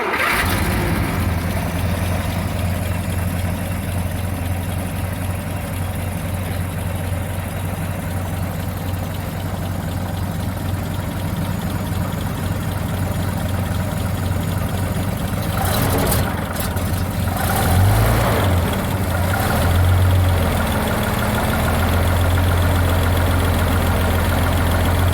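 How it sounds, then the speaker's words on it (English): The 572-cubic-inch six-cylinder engine of bus 630 idles with a steady low rumble, then cranks and restarts partway through with a rougher surge before settling back to a loud, close idle. "These are just such beautiful sounding engines."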